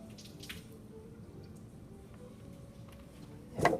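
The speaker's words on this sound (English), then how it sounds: "I'm actually gonna rinse out my water dish." A paint water dish is rinsed under a tap, with soft running water and faint drips, quiet and close, ending in a brief louder splash.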